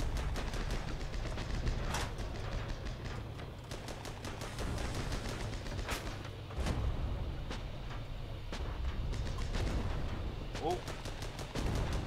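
Tank cannon blasts and rattling gunfire fill a battle in the video game Armoured Battle Crew, with repeated sharp booms over constant rumbling combat noise and a brief spoken exclamation.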